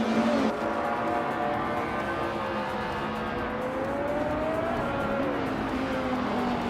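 Race cars roar continuously in a racing video game, engines droning and shifting pitch as they run nose to tail, with a steady close engine whine throughout and no talking.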